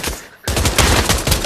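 Rapid, loud gunshots in the VR shooter Pavlov, fired as a dense burst of cracks after a brief lull, close and continuous with no talking.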